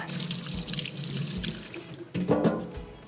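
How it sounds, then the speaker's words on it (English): Hands washed under a running kitchen tap, a close, steady splash of water that cuts off briefly and then resumes with hands moving through the stream. "let me just give my hands one more wash"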